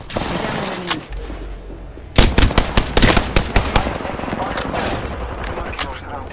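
Automatic gunfire in Apex Legends, with loud rapid bursts of shots crowding together, then a steady stream of fire with game effects, close and dominant throughout.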